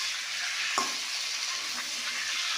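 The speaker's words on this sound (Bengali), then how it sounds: "চিকেনটাকে আগে ভেজে নিচ্ছি।" Chicken pieces frying in a pan with a steady, loud sizzle throughout and a single brief clatter near the start.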